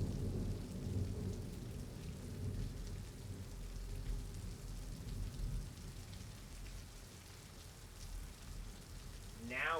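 Heavy rain pours steadily through a thunderstorm, a dense continuous wash with low rumbling underneath and a brief rising whistle-like tone at the very end.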